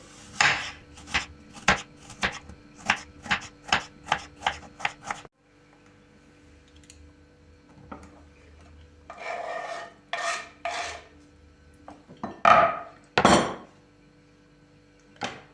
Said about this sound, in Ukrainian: Два кислі яблука я почистила від шкірки і буду нарізати кубиком.